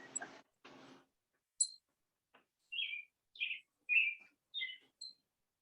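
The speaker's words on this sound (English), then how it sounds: "I hear your birds, Bobby." A few short breathy rustles give way to bright, distinct bird chirps, about half a dozen clear notes in an irregular sequence, fairly close and alone against silence.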